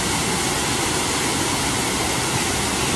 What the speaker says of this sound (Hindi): देखिए कितना तेज बह रहा पानी और कितना अच्छा लग रहा है पत्थरों पे टकरा के